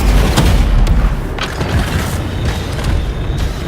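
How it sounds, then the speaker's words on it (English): A rocket explodes in a video game with a heavy, close boom and rumbling low blasts, followed by mechanical clatter and a fading roar. "This rocket just hurt me a lot."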